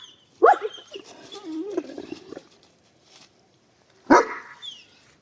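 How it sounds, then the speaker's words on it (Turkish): Two sharp barks from a shepherd dog, one at the start and another a few seconds later, with a low murmur of activity between them. "Hemen abi üstümüzde köpek sesi."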